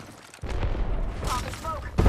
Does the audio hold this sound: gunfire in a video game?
yes